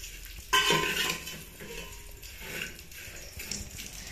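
Sevaiyan is stirred in a pot during home cooking, a soft scraping with light utensil clinks and faint sizzling, close and continuous, with no talk.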